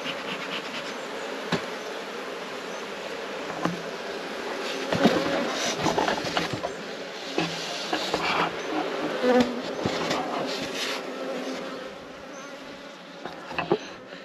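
Honey bees buzz steadily around an opened nuc hive during queen introduction, a dense insect drone with scattered soft knocks and handling clicks close by.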